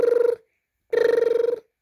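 A telephone rings twice, each ring a buzzy warbling tone separated by a short silence.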